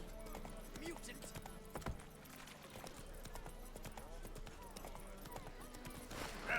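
Geralt's horse Roach trotting in The Witcher 3, a steady clip-clop of hooves running under ambient game music and scattered background voices, with a brief louder stir near the end.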